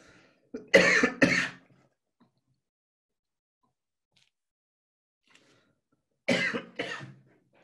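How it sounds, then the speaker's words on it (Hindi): Two bursts of coughing, each a quick cluster of harsh coughs, separated by several seconds of near silence. "ये थोड़ा सा एडिट करके मेरी खांसी निकाल देना"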